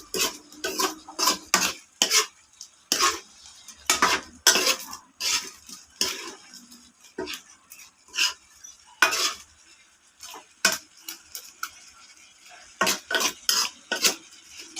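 Butter garlic prawns cooking in a pan, with a utensil repeatedly stirring and scraping and metal clinking in irregular bursts close by, faint sizzling between the clinks.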